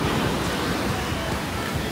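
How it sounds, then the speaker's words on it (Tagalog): Strong ocean waves surging as a dense, continuous roar of surf with wind buffeting the microphone, loud and close, with no talking. "Ang lakas ng alon guys."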